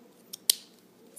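Scissors snip through curled korker ribbon in two quick, crisp cuts close together, quiet and close, with no talking.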